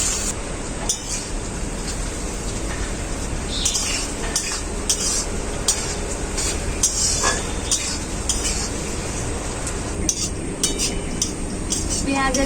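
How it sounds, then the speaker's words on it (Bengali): Onions fry in hot mustard oil in a wok, a steady sizzle under intermittent scraping and clinking of a stirring spoon against the pan, close and continuous throughout. "এখন আমি পেঁয়াজগুলো তেলে দিয়ে দেবো।"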